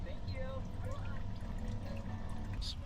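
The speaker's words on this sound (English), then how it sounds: "Add some water." Water is poured into a bowl of cornstarch in a camper van kitchen, a short steady trickling pour heard close against a background hum, with a voice talking nearby.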